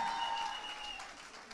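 A short burst of clapping from a small audience at a women's conference, fairly faint and fading over a second and a half, with no voices.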